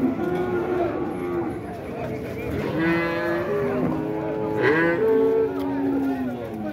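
Cattle low and moo at a dairy cow fair in Dois Riachos, Alabama area livestock market, with a cow and male calf nearby; several drawn-out moos sound close over a busy crowd backdrop, with people talking throughout.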